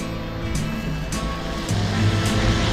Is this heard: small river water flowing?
yes